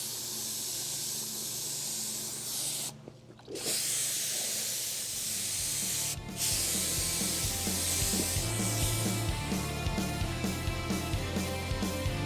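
A spray gun lays a light first coat of paint on a 1932 Ford dashboard. A steady, close hiss breaks off briefly twice, then a low harmonic motor drone rises underneath and continues to the end.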